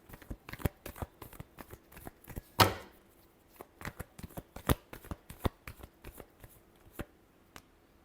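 Tarot cards are shuffled by hand in a quick run of crisp riffles and taps, close and fairly soft, with one sharper snap partway through and no talk.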